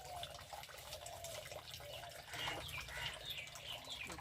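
Water splashing and running as fish heads are rinsed by hand in a sink or basin, steady close wet sloshing with faint bird calls in the background.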